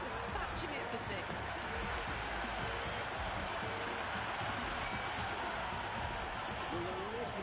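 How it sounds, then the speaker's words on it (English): Crowd in the Cricket 26 video game roaring after a six during an India vs Zimbabwe World Cup match, a loud, dense, steady wash of cheering that fills the whole stretch without a break. "Will you listen to that crowd? They are loving this."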